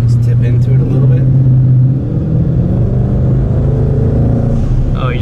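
A twin-turbo Mustang of about 1400 horsepower pulling hard under throttle, its steady loud engine drone rising in pitch, close and continuous throughout.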